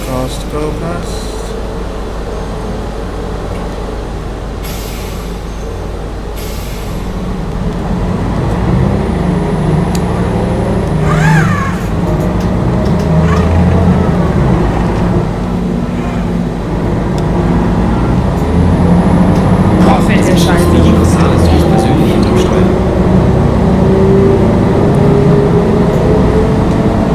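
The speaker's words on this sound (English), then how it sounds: "Just love the sound of that ZF gearbox" Gearbox whine of a city bus in OMSI 2, the ZF transmission droning steadily under engine rumble as the bus pulls away, pitch rising and shifting through gears, with occasional traffic noise around.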